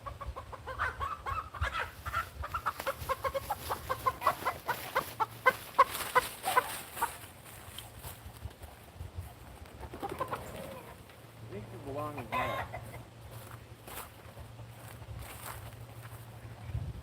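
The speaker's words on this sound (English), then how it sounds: "Gotta figure out where this chicken goes." Chickens in a backyard coop settling at nightfall, with soft clucks and bird calls scattered through the stretch, fairly close, over a steady low hum and some movement noise.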